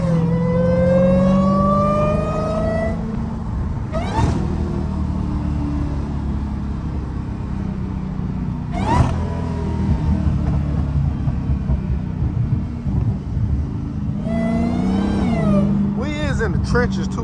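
A loud Dodge Hellcat, heard from inside the car, revs and accelerates hard, with rising engine pitch climbing through several gears and sharp bursts between shifts. The rumble is close and strong, with some talk over it.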